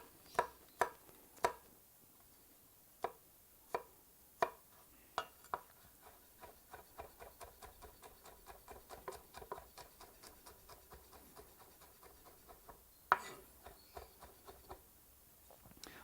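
A knife chopping garlic cloves on a cutting board, sharp separate knocks at first, then a faster, steady run of lighter taps, close and fairly quiet.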